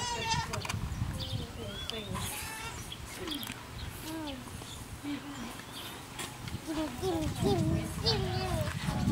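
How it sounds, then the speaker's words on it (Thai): Goats at a farm bleat repeatedly in wavering, nasal cries, some close and some farther off, while a young child and an adult talk and call out over them. "นิทานชอบแพะไหมคะ"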